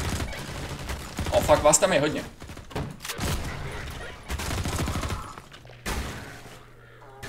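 Gunfire in the Half-Life 2 video game: dense, rapid bursts of shots and blasts that overlap in a chaotic firefight, with a man's excited exclamations spoken over them.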